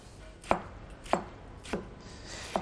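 A knife roughly chopping tomatoes on a cutting board, four crisp evenly spaced chops about half a second apart, close and clear with no talking.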